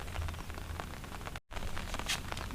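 Steady rain falls outdoors, a dense continuous hiss of drops on surfaces, broken by one brief gap, with no speech.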